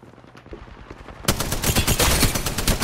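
Rapid automatic gunfire in the battle royale game Apex Legends: quieter shots, then a loud, dense burst of close, overlapping rounds that keeps firing steadily to the end, with no talking.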